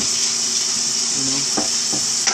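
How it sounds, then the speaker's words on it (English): Onions frying in oil in a pan for fried rice and vegetables, a steady close hiss of sizzling with a few soft stirring scrapes near the end, no talk. "just so the onions releases some of the flavor into the oil, and then you could let it fry a little longer"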